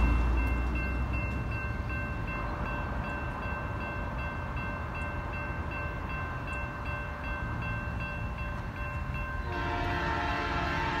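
A Union Pacific manifest freight train led by locomotive 6870 rumbles steadily close by in Magnolia, Texas, its horn sounding in long sustained tones, swelling louder and layered near the end.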